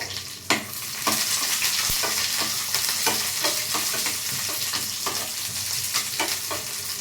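Onions, cumin and tamarind fry together for a chutney, a constant close sizzle with regular scraping stirs of a spoon in the pan and no talking.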